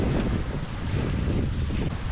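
Steady strong wind roars across a microphone on a sailboat at sea, with about 20 knots of apparent wind, a constant loud rumble with no voices.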